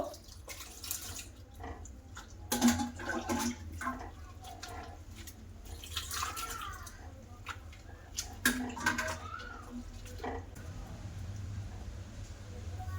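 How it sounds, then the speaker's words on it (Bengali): Water poured into a large bowl of grated potatoes for washing, irregular splashing and dripping bursts with some clatter, close by, fading to a quieter trickle near the end. "তো গামলা বাটিতে আমি জল দিয়ে দেব।"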